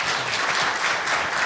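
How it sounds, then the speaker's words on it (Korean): Audience applause at a Korean policy talk, dense and steady clapping from a large crowd filling the whole moment. "다시 한번 큰 박수 부탁드리겠습니다"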